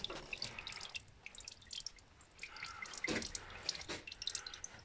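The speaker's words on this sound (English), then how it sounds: "oil is coming out. And you can look into the transmission." Transmission oil drips steadily from an opened Range Rover transmission during a fluid service, with irregular close wet plops and trickles and no talk.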